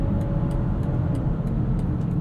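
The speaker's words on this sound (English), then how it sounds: "that's that beautiful inline six that we've grown to love" Steady engine drone from the inline-six petrol engine of a 2021 BMW X5 xDrive45e plug-in hybrid SUV, heard from inside the cabin while driving, a continuous low hum with road noise and no voices.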